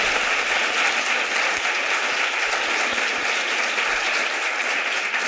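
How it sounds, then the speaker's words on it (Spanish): Steady audience applause for two guests at a discussion event in Madrid, a dense, even wash of clapping from a crowd that holds constant throughout with no voices. "un aplauso para ellas"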